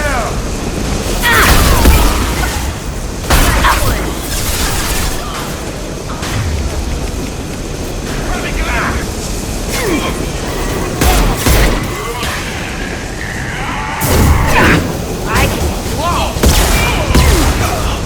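A fuel tank crashes down and explodes during a firefight in Mass Effect 2. Loud booms and bursts of gunfire come repeatedly through the scene, mixed with voices talking.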